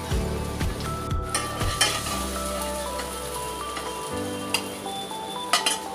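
Stuffed bitter gourds (bharli karli) pan-roast in oil with a steady close sizzle, broken by several stirring scrapes and light clinks of a utensil against the pan, with no one speaking.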